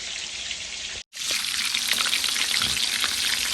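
Breakfast food frying in a pan, a steady loud sizzle that cuts out for a moment and then resumes with crackling spits and faint stirring.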